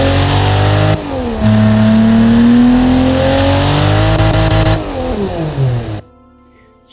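Nissan L28-SU inline-six in the Automation game revs loudly with rising, falling harmonic engine tones for about six seconds, then cuts off abruptly into near silence.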